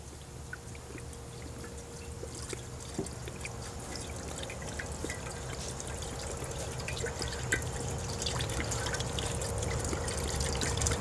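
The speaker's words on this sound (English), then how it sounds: "just pour it right into the pot" Soy sauce pours into a pot for a backyard luau pig roast, a continuous close trickle and gurgle that grows gradually louder.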